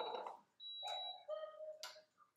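A kitchen cooktop hob beeps in a short series of electronic tones at varying pitches, quiet and close, in a kitchen where buckwheat galettes are being made.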